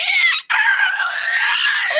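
A voice lets out a long, strained shriek, imitating a pained monster cry during a Pathfinder 2e tabletop game, broken by a brief gap before carrying on.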